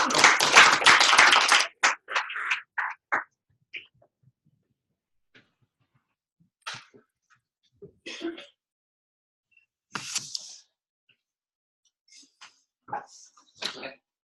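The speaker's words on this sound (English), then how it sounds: "Just a quick round of applause for Suzanne" A quick round of applause for Suzanne at a peer group talk, a dense burst of clapping lasting about two seconds that thins into a few scattered claps, followed by sparse knocks and rustles in a quiet room.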